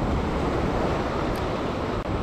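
Strong wind buffets the microphone over a steady roar of waves breaking on a rocky seaside fishing spot, continuous and loud with no voices.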